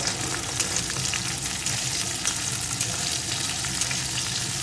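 Garlic and slit green chillies frying in hot oil give a steady, dense crackling sizzle throughout, close and even, with no talking.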